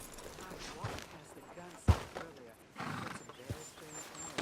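A horse in the Red Dead Redemption video game gives a loud whinny near the middle, with hoof clip-clops and game ambience around it while characters talk.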